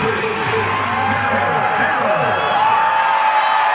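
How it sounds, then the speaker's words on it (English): Stadium crowd at a college football game, a dense, steady roar of cheering and whoops that holds loud and unbroken throughout, with a voice talking over it. "You can hear the crowd. This is really loud."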